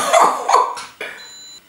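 A child coughs a few times after eating very spicy noodles in a hot noodle challenge, with several short harsh bursts up close followed by a faint lingering tone and no talking.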